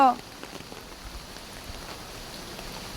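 Morning rain from Cyclone Remal in the coastal Assasuni area falls as an even, continuous hiss of drops on surfaces, opening with a brief voice before the rain carries on alone.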